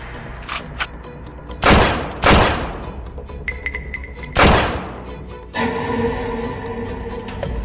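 Gunfire in a dramatic fight scene: several heavy, booming shots ring out one after another at irregular intervals, with rumbling noise between them.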